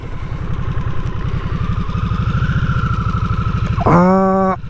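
A 2024 Harley-Davidson Nightster Special with a liquid-cooled engine idles with a steady, loud, close-up throb, then revs up sharply near the end with a rising roar before settling.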